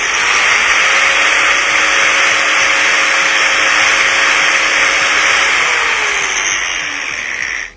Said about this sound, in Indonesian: gerinda biasa tidak bisa dikurangi atau dipercepat ya kecepatan putarnya sesuai dengan yang tertulis di speknya ya